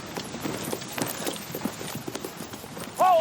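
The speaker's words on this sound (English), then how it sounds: "Horses. We must ride." Horses clip-clopping along a road in a dramatized 1865 night scene, with a string of irregular hoof thuds at moderate distance, then a short voice at the end.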